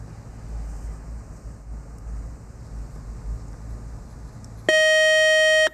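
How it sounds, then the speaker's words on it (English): A quiz show buzzer at a high school academic competition sounds one loud, steady electronic tone near the end, after a stretch of quiet room noise. "And that buzzer means just one more toss-up round next"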